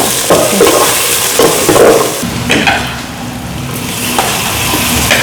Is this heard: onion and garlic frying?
yes